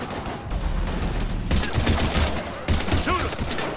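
Rapid bursts of gunfire crackle through a close-range firefight in the video game Mass Effect 3, dense and loud throughout with short breaks between volleys.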